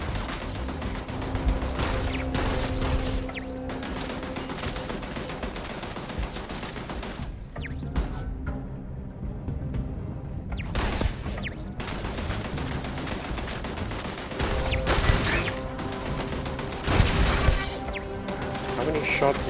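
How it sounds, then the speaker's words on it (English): Video game gunfire aimed at a lamp, with bursts of rapid shots and crashing impacts that recur across the stretch, mixed with game sounds and a person talking. "I was shooting the lamp."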